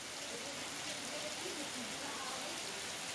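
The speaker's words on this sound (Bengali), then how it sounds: "সকাল থেকে নাগারে বৃষ্টি পশ্চিম মেদিনীপুরে।" Heavy, steady rain in West Medinipur, a dense continuous hiss of drops on surfaces with no break, fairly faint and even throughout.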